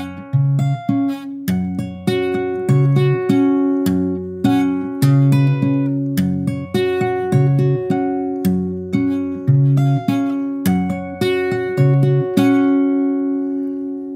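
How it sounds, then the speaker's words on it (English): Fingerpicked acoustic guitar plays a descending pattern, bright plucked notes in a quick, steady repeating cycle over ringing bass shapes, clear and solo without talk. "Now we're going to play these shapes while we do another descending pattern with our finger picking hand."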